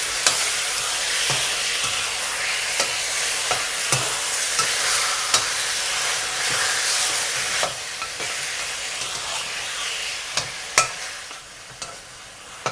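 Pork spare ribs hissing and sizzling loudly in a very hot pan, with steady frying noise and occasional scraping knocks as they are stirred around.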